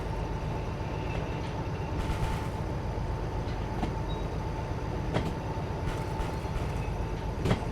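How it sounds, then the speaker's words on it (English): Train rolling along in the Derail Valley simulation game, a steady low rumble with clicking wheel beats and a few sharp clacks, continuous and fairly loud with no talk. "Yeah, the train is moving."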